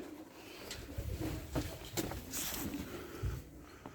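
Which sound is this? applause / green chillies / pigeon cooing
pigeon cooing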